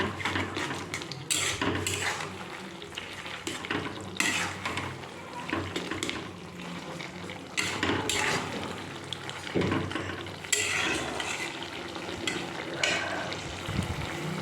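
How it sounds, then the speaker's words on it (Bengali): A metal spatula stirs poppy seed paste in a pan, giving steady scraping and clinking against the pan with occasional louder knocks, close and continuous. "খুব ভালো করে পোস্তটা মিশিয়ে দিচ্ছি খুন্তি দিয়ে নেড়ে ছেড়ে"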